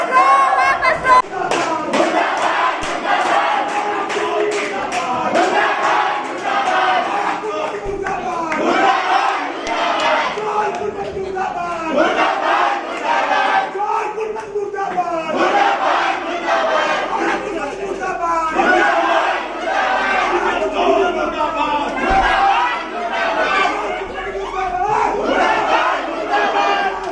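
Protesters at a sit-in demonstration at a university chant slogans in loud rhythmic unison, the call-and-response shouts repeating in waves over a crowd throughout.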